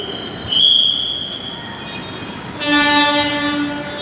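Chennai MRTS suburban train running between St Thomas Mount and Velachery, heard close and loud with steady rail rumble, squealing wheels and a long horn-like tone. No one speaks.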